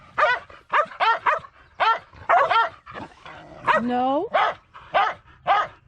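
Dogs bark and yip nearby in sharp bursts on a ranch while horses are moved, mixed with a whimpering whine, while a person briefly speaks.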